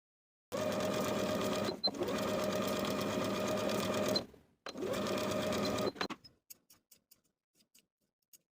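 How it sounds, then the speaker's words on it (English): A sewing machine runs in two steady bursts stitching the princess seams of a dress, with a short pause between them and a few faint ticks as it stops. The machine is close and there is no talk. "Sew both seams with a 3/8 inch seam allowance"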